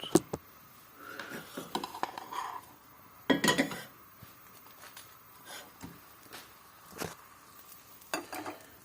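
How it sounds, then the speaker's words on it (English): A grilled cheese sandwich being flipped in a pan: scattered metallic clinks and scrapes of a spatula against the pan over a faint sizzle, with one louder clattering burst midway, moderately quiet and close. "Still not burned. I will flip."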